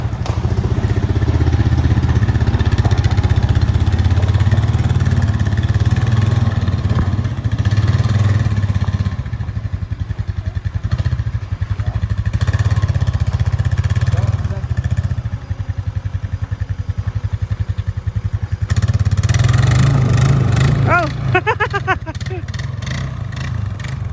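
A Honda vehicle engine runs steadily in the snow with a low, continuous drone and some clatter, close and loud for the whole stretch, while people talk over it.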